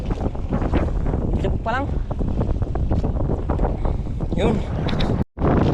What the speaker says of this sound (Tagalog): di na namin talaga kaya yung hangin. Malakas na.